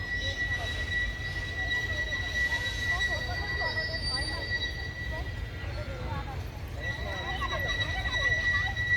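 A train engine moves through Khulna railway station in Bangladesh, giving a steady high metallic wheel squeal over a low continuous rumble for the whole stretch, while people talk nearby.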